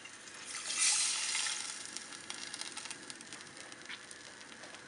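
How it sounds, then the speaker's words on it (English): Water pours into a pot for fish soup, a soft gushing splash that swells early, then eases into faint trickling and patter, quiet and close with no talk. "Then some water. Add some water."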